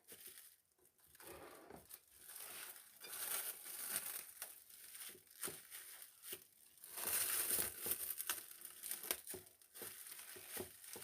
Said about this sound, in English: you just fold the plastic wrap up over it